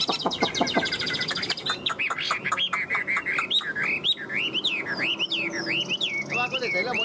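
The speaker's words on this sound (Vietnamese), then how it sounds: "Các bác có thể thấy là một em họ Mi hot rất là tốt" Chinese hwamei songbird in a cage singing a long, varied stream of loud whistles, trills and rising-falling phrases, close and nearly continuous with short pauses.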